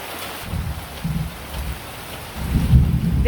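Low thunder rumbles in several rolling bursts, the loudest near the end, over a soft steady patter of rain.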